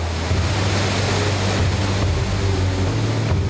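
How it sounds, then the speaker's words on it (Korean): Pagsanjan Falls in the Philippines, in a forested gorge with steep cliffs, gives off a steady, loud, broad roar of falling water that holds constant throughout with no voices. "박상한 폭포가 웅장한 낙수 소리를 내며 모습을 드러낸다."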